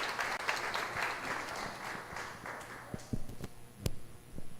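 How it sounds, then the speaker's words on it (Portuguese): Church congregation applauding to welcome Pastor Ronaldo at a worship service, a dense wash of many hands that thins into scattered louder claps toward the end. "Com aplausos, vamos receber o pastor Ronaldo."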